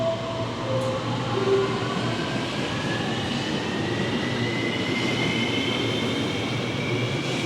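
A metro train runs toward Pudu station with a steady, loud rumble, a faint whine rising in pitch and brief wheel squeals near the start, heard from inside the carriage with no talking.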